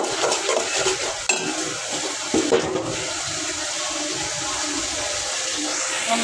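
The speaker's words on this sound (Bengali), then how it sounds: "এই যে টক পাতা কষানো হচ্ছে" Sour leaves sautéed in a pan, a continuous sizzle with a rushing wash and occasional clinks of a utensil against the metal pan, heard close with no talk.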